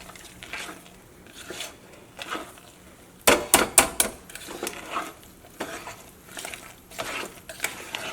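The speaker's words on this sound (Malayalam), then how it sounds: "പാത്രത്തിൻ്റെ സൈഡിൽ നിന്നൊക്കെ ശരിക്കും നന്നായിട്ട് ഇളക്കി കൊടുക്കണം" A spoon stirs rava batter in a pot with soft, irregular scraping strokes. A brief burst of sharp clinks against the pot's side rings out midway, then the quieter rhythmic stirring resumes.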